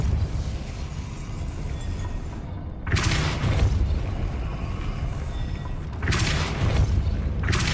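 A Depulso spell is cast in Hogwarts Legacy, producing two loud, bright whooshing bursts about three seconds apart that rise out of a steady rumbling game background.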